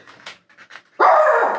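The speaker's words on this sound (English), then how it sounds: "I am really sorry about them barking all the time" Pet dogs in a home crafting room make faint yips and whimpers, then break into one loud, sustained bark close by.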